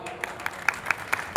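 Scattered audience applause at a live ghazal and song performance honoring Babasaheb Ambedkar, a few sparse claps spaced irregularly over a short stretch, moderately near.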